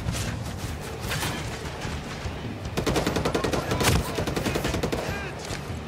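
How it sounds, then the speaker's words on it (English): Enemy gunfire in a Ghost Recon raid: a dense, continuous spray of automatic shots, with bursts growing louder and sharper midway, fairly close and sustained throughout. "Who's shooting at me here?"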